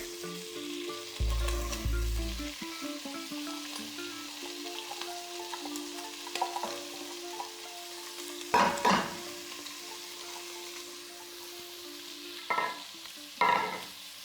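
Onion and garlic fry steadily in a pan while a few sharp scraping stirs cut through the sizzle, with a low thud near the start; no voices.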